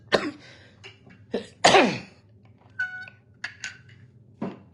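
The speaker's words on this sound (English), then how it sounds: "I just have this funny cough." A person coughing repeatedly at close range, several harsh throaty bursts with one loud fit near the middle, spaced by brief pauses and some light clinking in the background.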